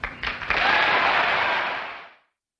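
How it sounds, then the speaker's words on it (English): Loud, sustained applause from a large audience at a speech, swelling quickly after a few scattered claps and holding steady for about two seconds before fading out. "Thunderous applause there."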